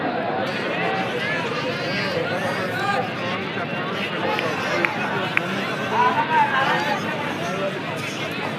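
A dense crowd murmurs and chatters continuously at a bullock cart race final in Pohara, steady and close, with a couple of sharp knocks near the middle.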